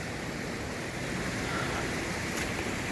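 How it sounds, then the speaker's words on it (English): A waterfall pouring into a river along a hiking trail in Robe Canyon, a steady broadband rushing roar that stays constant and moderately loud, with no voices. "Got this waterfall off to the right here."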